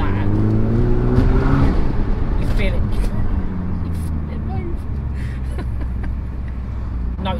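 A Renault Megane RS in race mode with a Powerflex lower torque mount revs under throttle from inside the car, the engine droning and rising in pitch, then easing off under ongoing speech.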